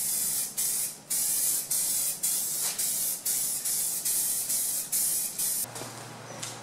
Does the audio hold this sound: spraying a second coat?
yes